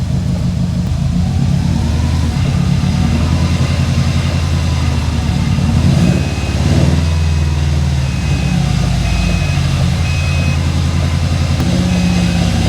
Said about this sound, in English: You can hear that rust on the rotors.